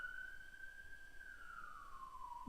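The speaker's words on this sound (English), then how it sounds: "I'll wait for the siren to stop." A distant siren outside wails faintly in one long, slowly falling tone during a quiet pause in a formal hearing room.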